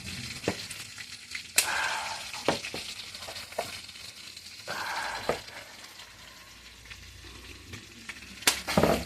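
Moringa leaves dropped into a simmering fish stew, tinulang isda, bringing a steady close sizzle and frying crackle, with scattered stirring clatters and utensil knocks through the pot.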